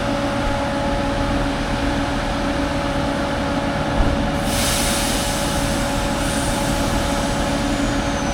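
A CrossCountry train passing straight through Belper, a steady loud roar of rolling wheels and rail noise that holds throughout, with a brief high squeal partway through and no voices.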